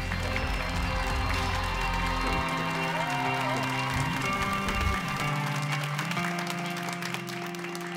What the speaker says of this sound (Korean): 네, 다시 한번 큰 박수 부탁드립니다